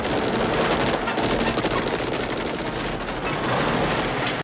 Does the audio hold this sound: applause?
no